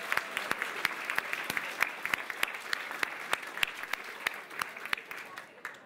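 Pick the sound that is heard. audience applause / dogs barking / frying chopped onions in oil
audience applause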